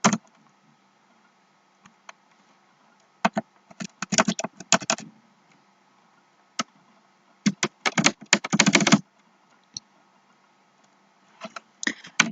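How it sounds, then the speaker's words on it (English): Sharp clusters of computer keyboard clicks as HTML table code is entered, coming in rapid bursts separated by silent pauses, close and crisp with no talking. "We type TR for the rows."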